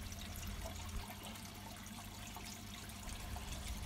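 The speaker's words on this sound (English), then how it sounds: "Then I fill a bucket up with pond water so that I can clean the coarse sponge" Pond water pouring steadily into a bucket beside a garden pond skimmer, a continuous close watery rush with low gurgling and no voices.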